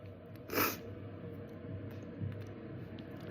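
A single short, sharp sneeze bursts out near the start, close and fairly loud above a steady background hum, followed by quiet noise.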